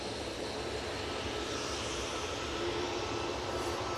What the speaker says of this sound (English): TUI now starting up, spooling up even.